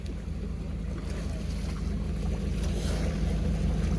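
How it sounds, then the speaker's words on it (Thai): Sea-like waves of water wash and rush in a steady, loud, continuous roar mixed with wind buffeting the microphone, with no clear break. "ดูน้ำแบบเหมือนคลื่นทะเลเลยอะ"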